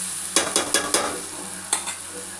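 Chicken sengala curry stirred in a pan over a low flame, a spoon scraping and clacking in quick regular strokes over a steady soft sizzle, then slowing, no voices.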